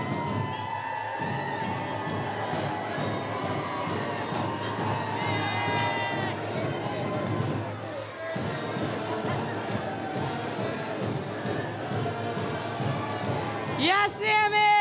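A crowd cheers and shouts at a high school Unified Champion banner unveiling in a gym, sustained loud whoops and children's yells, with a sharp high squeal near the end and voices mixed in.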